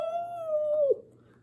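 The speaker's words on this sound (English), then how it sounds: "The dogs in the back of the truck howled. Howl!" A dog howling from the back of a truck, one drawn-out, close and loud tonal howl that holds steady and then drops and breaks off, followed by quiet.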